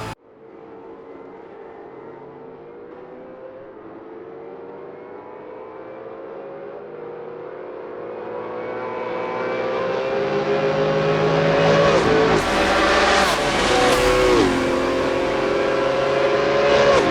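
V8 Supercar engines in a sim racing game roar continuously, building from a steady drone into louder, rising revs as several cars pass close by in the second half, with sharp gear-change dips near the end.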